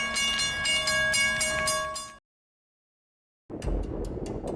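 EMD F40 diesel locomotive passing, a loud tonal horn-like drone with steady harmonics for about two seconds, then a sudden cut to silence before rumbling wheel and engine noise returns close by.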